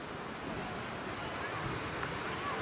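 Sea waves wash at a beach while wind buffets the microphone, a soft continuous roar with no distinct breaks, faint and steady.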